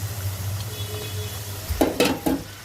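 Duck gizzards and liver cooking with spices such as bay leaf, cardamom and cinnamon in a pan, giving a steady low sizzle with a few sharp scraping stirs near the end.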